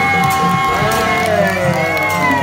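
Crowd at a temple festival procession for the goddess Mazu in Anping, cheering and clapping loudly and continuously, with a steady tonal drone and voices mixed in throughout.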